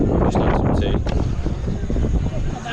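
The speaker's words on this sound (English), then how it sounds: "it's a bit windy." Wind gusting at a beach in Jamaica, a steady loud rush buffeting the microphone across the whole stretch, with brief bursts of low-level voices mixed underneath.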